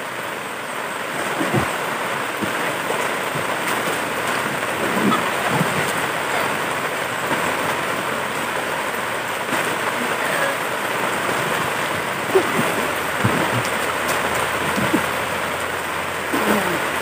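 Steady, dense rain hisses throughout, with a few faint low thumps scattered beneath the constant downpour.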